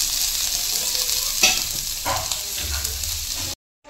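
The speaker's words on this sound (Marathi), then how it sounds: "यामध्ये थोडंसं मी तेल ॲड करणार आहे, म्हणजे कांदा लवकर सॉफ्ट होतो त्याने" Onion fries in oil in a pan with a loud, continuous close sizzle and a couple of stirring scrapes, then it cuts to silence near the end.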